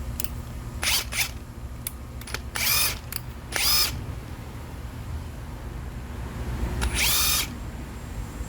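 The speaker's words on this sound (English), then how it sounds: "You can put bits in, and we'll drill some holes using the Metabo powered" Metabo HiKOKI 36V impact wrench running on its plug-in cord, fitted with a 1/4-inch hex adapter and bit, drilling holes in several short whirring bursts separated by pauses, the longest near the end, over a low steady hum.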